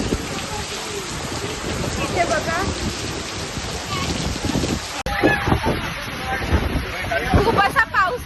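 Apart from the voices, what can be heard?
heavy rain falling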